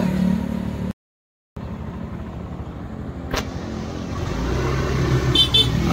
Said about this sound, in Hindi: अभी हम ब्रिज पे हैं, आप देख सकते हैं गाड़ी आ रही है, जा रही है।